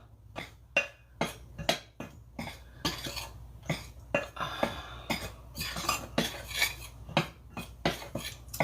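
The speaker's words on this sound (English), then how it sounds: "Just stir this up." A utensil stirs and scrapes biscuit dough in a bowl in quick, repeated strokes with clinks against the sides, heard up close and fairly quiet.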